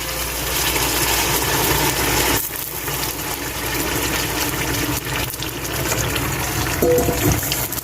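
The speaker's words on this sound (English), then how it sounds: "So now I'm gonna add 1 cup of boiling water." Boiling water pours steadily into a pot of curry goat in a continuous gushing splash, with a brief dip partway through, then resumes filling the pot.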